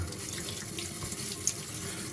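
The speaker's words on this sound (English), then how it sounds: "I'm rinsing my brush out at the moment." A shaving brush is rinsed under a running tap, giving a steady, close hiss of flowing water into a sink with only slight splashing changes throughout and no voices.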